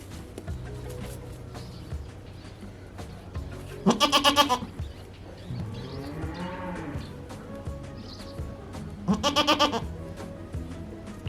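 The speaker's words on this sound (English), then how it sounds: "First, we ensured the safety of Bella the goat" A goat on an African farm, waiting to have an infected hoof trimmed, gives two loud, harsh bleats several seconds apart, with quieter calls and low background noise in between.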